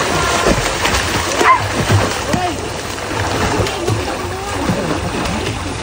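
A person jumping into the sea at Samal Island, with splashes and sloshing water amid outdoor chatter and voices, close and lively throughout.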